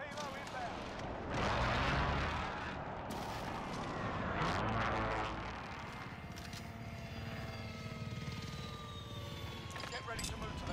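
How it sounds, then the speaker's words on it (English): Precision airstrike explosions hit in the video game Call of Duty: Modern Warfare, deep booming blasts and rumble from mid distance with aircraft noise sweeping overhead, under radio chatter. "Be advised, friendly precision airstrike inbound"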